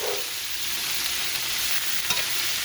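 Country fried steak sizzles loudly and continuously in a pan while being stirred, a dense, close frying hiss with a small scrape toward the end.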